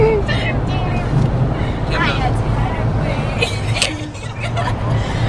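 Steady road rumble and wind roar from a car driving along a highway through Nebraska, loud and continuous, with people talking inside the vehicle over it.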